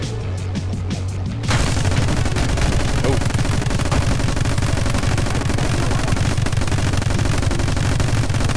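Turrets fire nonstop in the action shooter My Friend Pedro, a loud, dense, unbroken barrage of rapid gunfire that jumps in volume after a brief quieter opening.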